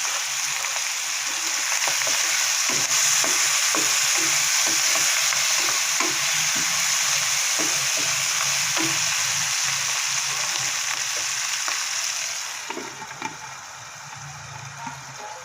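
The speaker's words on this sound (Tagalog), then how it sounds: "Tapos yung mga pata natin, isama muna natin ng igisa-gisa." Pork hocks are sautéed in a pan with a loud continuous sizzle and rhythmic scraping stirs from a utensil, the frying easing off near the end.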